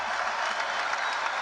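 A large crowd at a college men's basketball game between Stanford and Louisville applauds and cheers in a dense, continuous roar of clapping, with no individual voices standing out.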